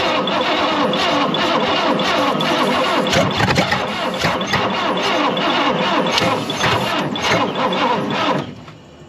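A vintage racecar engine cranks on its starter, powered by a boost box clamped directly to it. The starter grinds loud and close for about eight seconds with no catch, then cuts off.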